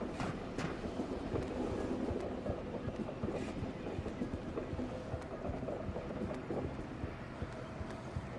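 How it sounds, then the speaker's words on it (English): Train rolling through city woods, a faint, steady rumble and clatter with sharp clicks scattered throughout, heard at a distance with no voices. "A lot of trains in this part of the woods"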